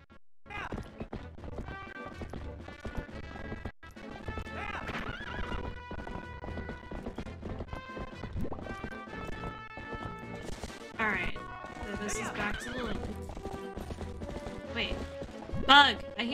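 Horse hooves clip-clopping at a gallop with loud neighs and whinnies in the game Twilight Princess, a rapid rhythmic beat running under game music and a chatting voice, with a sharp crash near the end.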